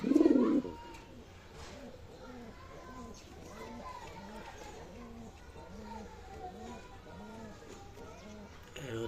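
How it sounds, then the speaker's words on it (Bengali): A male pigeon of a fancy, high-flying breed coos in a repeated, rhythmic series of soft low calls, close by, after a brief louder sound at the start. "আমার পছন্দের একটি নর কবুতর"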